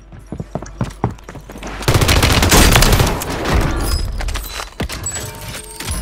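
Light machine gun fired from a tac stance in a video game battle royale match, loud sustained bursts after scattered single shots, dense rapid fire dominating the middle, then tapering into sporadic shots.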